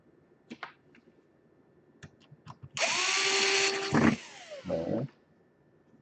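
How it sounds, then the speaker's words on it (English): A screwdriver drives screws into an Asus G46 laptop during a DC power jack repair, with a few light clicks followed by two bursts of whirring motor sound, close and fairly loud, with no talk. "I want to put just front two screws first"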